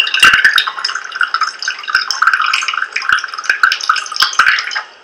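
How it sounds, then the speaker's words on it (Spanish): Water streams out of a hole in a plastic bottle, splashing and dripping steadily and close by. The flow runs fairly loud for about five seconds, then tapers off near the end. "dependiendo de la altura va saliendo más rápido el flujo"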